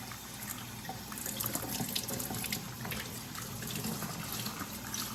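Tap water runs steadily into a sink for a quick rinse of habanero pepper, tomato, garlic and ginger, a continuous close splashing gush with no talk.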